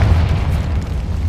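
The Confringo fire spell bursts in a Hogwarts Legacy catacomb, a single loud, close, rumbling boom that fills the brief moment on its own.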